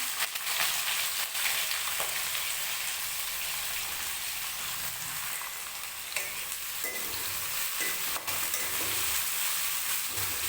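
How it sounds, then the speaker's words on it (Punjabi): Cumin seeds and onions frying in hot oil for a Punjabi-style capsicum curry, giving a steady, loud, dense sizzle with faint stirring scrapes throughout and no talking. "ਤੇਲ ਆਪਣਾ ਗਰਮ ਹੋ ਗਿਆ ਜੀ ਜੀਰਾ ਪਾ ਦਾਂਗੇ ਇਹਦੇ ਵਿੱਚ ਨਾਲ ਹੀ ਪਾ ਦਾਂਗੇ ਪਿਆਜ਼ ਆਪਾਂ"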